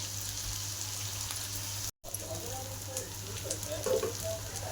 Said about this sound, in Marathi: आपण कांदा भाजायला टाकला तर चांगला कांदा काळा करणार आहे